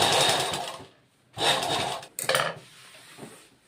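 A sewing machine stitches a folded half-inch hem in three close bursts: a long run, a pause, a second run, then a brief stuttering start.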